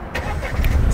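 An Opel Corsa GS Line car engine starts up and idles with a rising rumble, close and fairly loud for about a second.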